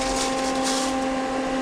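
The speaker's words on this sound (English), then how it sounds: "you pull the trigger to let it push the wire through the gun" Lincoln MIG welder feeding wire through the gun with the trigger pulled, giving a steady close electric hum with a strong tonal whine and a hiss on top, continuous and unbroken.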